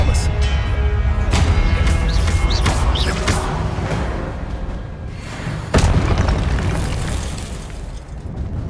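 Expelliarmus spell cast in the Hogwarts Legacy video game, a loud booming burst with crackling magical impacts, repeated blasts and a sharp hit near the middle over dense game sound.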